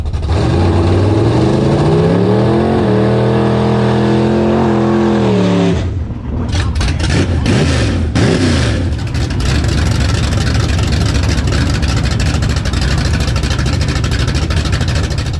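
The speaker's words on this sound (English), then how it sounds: "We are racing the Monza, who's added a touch of nitrous oxide to his motor." A Chevy Vega with a 454 crate motor lines up to drag race a nitrous-fed Chevy Monza: a loud engine holds a high droning rev, then the launch erupts into a roaring, ragged full-throttle blast.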